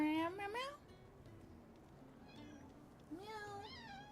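Pet cat Zenny meows a few times at close range, short rising cries near the start and again toward the end, with a person's voice also present, partly imitating the meows.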